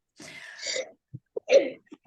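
A sneeze bursts out in a classroom, followed by a couple of short, sharp breathy sounds, close and fairly loud against silence.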